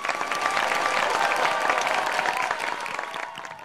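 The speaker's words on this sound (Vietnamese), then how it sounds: "Một tràng pháo tay nữa thưa quý vị." A studio audience at a Vietnamese singing competition bursts into loud, dense applause, holding full for a few seconds before easing off toward the end.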